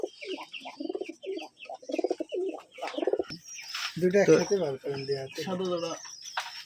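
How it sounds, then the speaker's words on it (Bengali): White pigeons coo repeatedly at a Rajshahi high-flyer pigeon farm, their soft rhythmic calls close by, with a person's voice audible among them. "এই যে এবার দেখবো সাদা কবুতর"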